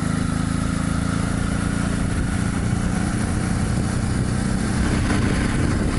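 Steady engine drone of motorcycles riding along a mountain road in Spain, a continuous loud, rough hum that holds level throughout with no clear single pass-by.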